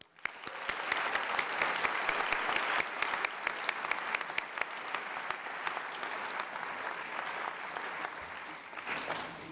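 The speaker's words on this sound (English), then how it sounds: "let's start with a round of applause for your alma mater's birthday" A commencement audience applauds the school's centennial and its graduates, a large crowd clapping steadily with sharp individual claps standing out, loudest early and tapering slightly.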